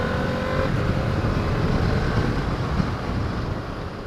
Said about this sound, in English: That V4 sounds good.